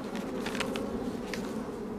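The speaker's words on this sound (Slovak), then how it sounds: "Jako náhle sa roj ustáli, že v úle zostane, robotu hnedky započne." A swarm of honeybees hums at a hive, a dense, continuous buzz that stays loud and even throughout, with a few individual bees droning louder as they pass near.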